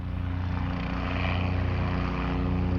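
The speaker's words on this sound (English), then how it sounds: "Oh, that was a helicopter about to come over." Steady loud rotor and engine drone of a helicopter overhead, continuous and close, with no talking.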